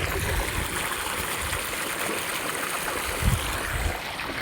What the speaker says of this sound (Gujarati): પાણી તો આવી ગયું છે.